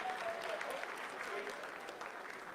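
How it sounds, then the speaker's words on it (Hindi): Steady applause from a large crowd during the Chandrayaan-3 moon landing broadcast, continuous and moderately loud, with a faint tone running underneath. "आप तालियों के गड़गड़ाहट से सुन सकते हैं"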